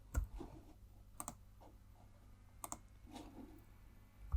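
Computer keyboard and mouse clicks while copying a spreadsheet cell, heard as a few sharp, close clicks and taps scattered over a quiet room background with no talking.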